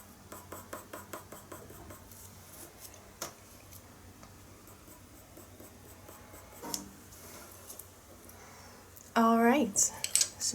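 A colored pencil scratches across paper in short, repeated strokes, drawing light horse fur. The strokes are quiet and close with small pauses, and a brief tonal rattling burst comes near the end.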